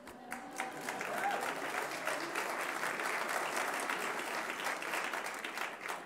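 Audience at a social entrepreneurship awards ceremony breaking into applause, building quickly after a brief pause and holding as a steady, moderately distant wash of clapping.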